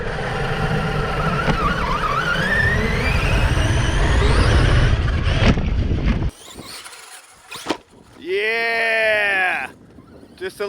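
Traxxas Summit Reaper rat rod RC truck driving on a dusty track, its electric motor whining and rising in pitch for several seconds, then a brief gap and another rising squeal, close and loud.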